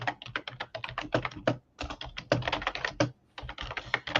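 Rapid typing on a computer keyboard, a dense run of crisp, close key clicks in quick bursts separated by two short pauses, with no voices over it.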